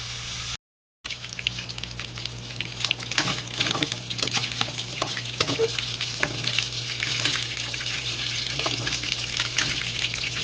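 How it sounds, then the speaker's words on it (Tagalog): Bone-in chicken pieces fry in cooking oil, a steady patter and crackle of sizzling grease with occasional sharper pops, close and continuous after a brief silent gap at the start. "prito natin ng konti sa mantika yung manok"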